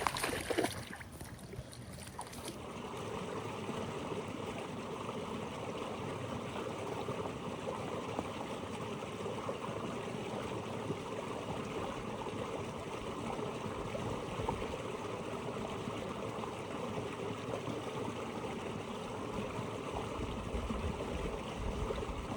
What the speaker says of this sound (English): enjoy the sounds of this creek